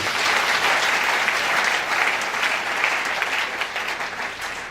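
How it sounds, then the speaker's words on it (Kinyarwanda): An audience at a live church event gives sustained, dense applause for the Maserafi choir, a steady roar of clapping hands that stays loud and even for several seconds with no voices over it. "Tubakomera amashyi."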